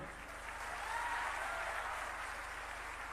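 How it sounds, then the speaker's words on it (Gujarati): Applause from a mushaira audience at a Gujarati ghazal poetry festival in Palanpur: a sustained, even roar of many hands clapping at once, heard from a distance and fairly faint, with no voices over it. "એકવાર તાળીઓ તમારા માટે."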